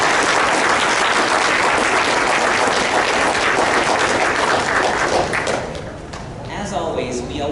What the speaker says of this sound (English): can I have a round of applause for our East Hartford staff?